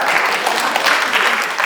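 Audience applause at a Universal Health Coverage Day event, a continuous wash of many hands clapping, steady and fairly loud throughout with no voices on top.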